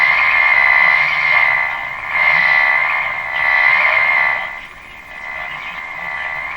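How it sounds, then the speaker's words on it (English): Interference noise on a Canadian Westinghouse Model 512 tube radio tuned near 640 on AM, a steady buzzing, warbling tone that swells and fades in pulses, fairly loud and without talk. "Now there's a huge noise signal right on top of it."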